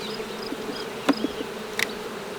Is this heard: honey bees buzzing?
yes